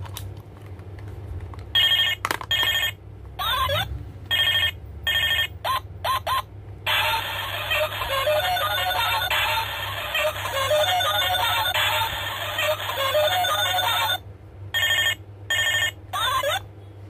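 A battery-operated toy telephone rings in repeated electronic bursts, with a long continuous ring in the middle and short pulses before and after, fairly close and clear.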